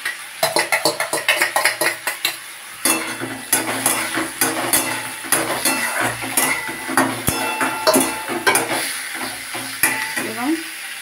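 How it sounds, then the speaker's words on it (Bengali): Boiled green jackfruit dropped into hot tempered oil in a pan, giving a sizzling, hissing fry with repeated clinks and scrapes of a utensil against the pan, loud and close. "এই সময় আমি সেদ্ধ করে রাখা সেই এঁচোড়টা দিয়ে দিলাম।"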